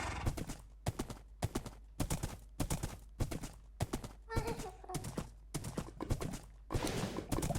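Horse hooves clip-clop steadily in the Minecraft video game, a regular rhythmic run of close, clear footfalls with a brief whinny partway through and no talk.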